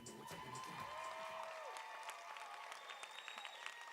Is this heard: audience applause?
yes